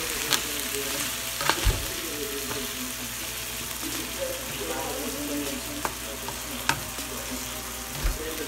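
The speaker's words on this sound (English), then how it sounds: "I need to dump the taco sauce. I need to stir it." Taco sauce and ground beef sizzle steadily in a hot pan for a beef taco filling, with a continuous frying hiss and a few louder clatters and scrapes of a utensil as it is stirred.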